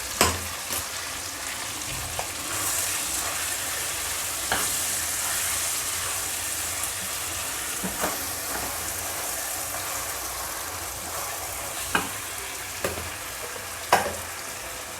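Ginger, onion and garlic paste sizzles steadily in a hot pan, a continuous crackling fry broken by a few sharper stirring clinks and pops, close and alone with no talk.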